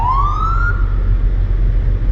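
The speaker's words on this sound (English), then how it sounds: "There's an ambulance." An ambulance siren sweeps upward in pitch then holds a steady wail over a constant low rumble of traffic, fairly loud and close.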